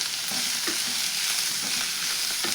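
Cabbage frying in a little oil in a pan, a dense continuous sizzle with soft rhythmic stirring scrapes every fraction of a second, close and fairly loud, with no talking.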